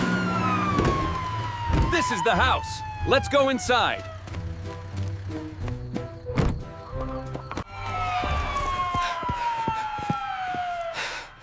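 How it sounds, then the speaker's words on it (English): A wailing police siren sweeps up and down, loud at the start and again near the end, with hoofbeats, thuds and a brief spoken line between, in a cartoon. "I hear sirens."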